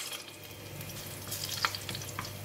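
Whole spices such as cardamom sizzle in about three tablespoons of hot cooking oil for a mutton curry, a steady close frying crackle with a few sharper pops and stirring scrapes.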